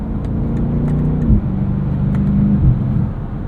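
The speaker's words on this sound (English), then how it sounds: "you'll be able to hear all the subtle changes in engine note." A 2023 BMW X7 M60i engine hums steadily from inside the cabin during night driving, with a smooth, deep drone that rises and then dips at two gear shifts, with no talking.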